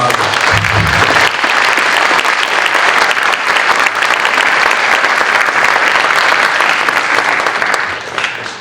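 Sustained applause from an audience at a middle school academic honors ceremony for eighth graders, dense and loud clapping that holds steady for several seconds before fading out at the end.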